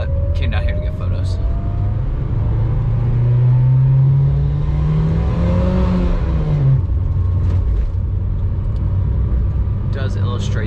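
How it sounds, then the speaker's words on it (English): A 2005 Mitsubishi Evo VIII rolls slowly along a rough, rocky road, its engine rumbling steadily inside the cabin with a rising and falling tone, while people talk briefly at the start and end. "You can hear all the little rocks and stuff."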